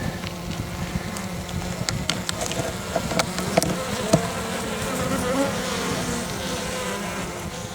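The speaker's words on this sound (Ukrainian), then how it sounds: "Молодий рій. Сидить як справжній рій." Young honeybee swarm in a nucleus colony, a steady dense buzzing hum of many bees throughout, close and continuous, with individual bees flying past the microphone and no talk.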